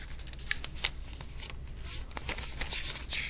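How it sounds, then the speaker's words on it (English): A sheet of paper is creased and folded, close crisp rustles and a few sharp crackles over a quiet room tone. "So I'm going to take it and I'm going to fold it this way."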